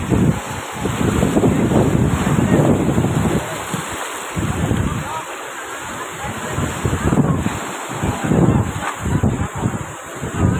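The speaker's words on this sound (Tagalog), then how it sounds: "Grabe. Lakas yung alon." Strong ocean waves crash and surge repeatedly, loud and close, with wind buffeting the microphone between swells.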